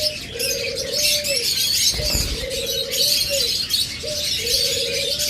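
Pet birds in cages give a constant bright chatter of chirps, while a low cooing call repeats about every two seconds beneath it.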